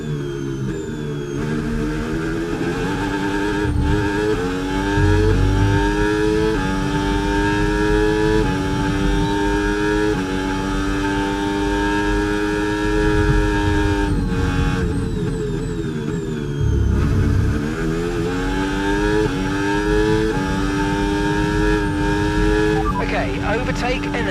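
A Formula 1 car in the F1 26 racing game at the Brazilian Grand Prix, with overtake mode active, its engine loud and steady and rising through the gears with repeated upshifts while a voice speaks over it now and then.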